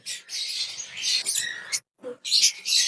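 High, busy chirping and tweeting from baby lutino lovebirds, nearly continuous with a short pause, fairly close and moderately loud.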